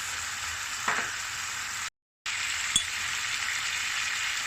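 Chunky tomatoes for a köpoğlu meze cook gently in a pan, giving a steady close hiss of sizzling with one brief clink, broken by a short moment of silence.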